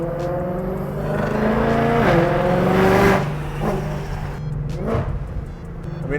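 A supercharged 2020 Ford Shelby GT500 with a dual-clutch transmission, tuned past 1000 hp on E85, rumbles under light throttle with a deep, steady engine drone that swells briefly and settles, close and loud, with no talking.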